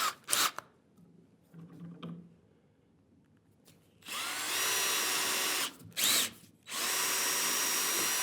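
Power drill driving screws through a plywood workbench top, with a couple of short bursts first, then a long sustained whir, a brief pause, a short burst, and another sustained run, close and loud.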